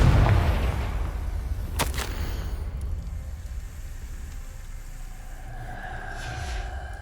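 Confringo blasting spell in the video game Hogwarts Legacy: a deep, loud boom that rumbles and decays over several seconds, with a sharp crack in the middle and a fading whoosh and tonal shimmer afterward.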